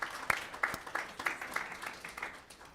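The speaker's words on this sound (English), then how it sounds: "Let's give her a round of applause." An audience at an evening lecture applauds, a soft, fairly distant patter of many hands clapping in an uneven rhythm that fades slightly toward the end, with no voices over it.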